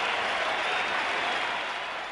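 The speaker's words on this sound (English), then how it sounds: "a warm ovation for him from this MCG crowd" Applause from a large crowd at the MCG during a cricket match rolls on as a dense, steady ovation, then begins to fade toward the end.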